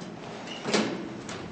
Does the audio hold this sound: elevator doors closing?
yes